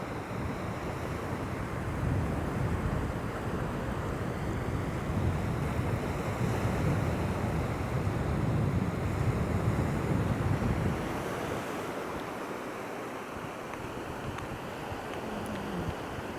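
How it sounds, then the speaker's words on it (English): Wind gusts at a low-tide shoreline as weather moves in, blowing steadily and loudly against the microphone over the surf, then easing slightly toward the end. "The wind's definitely picking up."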